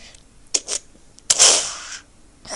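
Gunfire in Garry's Mod: two sharp shots ring out a moment apart, the second louder with a brief hissing tail, against an otherwise quiet game backdrop.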